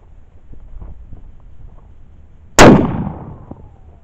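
A single sharp, loud gunshot from a re-barreled, rechambered K31 Swiss rifle set off by a remote trigger cord, a sudden crack followed by a ringing decay outdoors after a few seconds of quiet wind.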